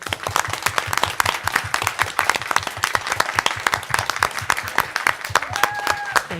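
A school board meeting room full of people applauds, close rhythmic clapping from a modest crowd, steady and even, with a brief voice near the end.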